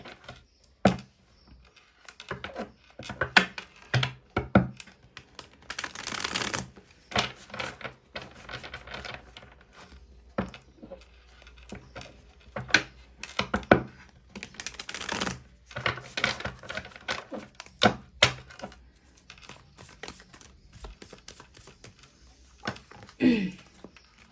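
Oracle cards being shuffled and drawn during a reading, giving a run of quick papery flicks and taps in uneven bursts, close and fairly quiet, with no voice.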